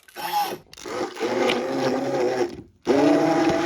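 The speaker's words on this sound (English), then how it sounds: "I'm just going to immersion blend this down until it is all the way pureed" Immersion blender pureeing carrot ginger soup in a pot, a buzzing motor whir in sustained bursts with two brief pauses, close and fairly loud, the pitch wavering as the blade works through the soup.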